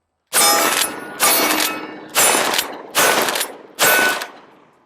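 Five loud, close shotgun blasts of double-aught buckshot fired in manual mode, evenly spaced about a second apart, each with a sharp crack and a short decaying echo.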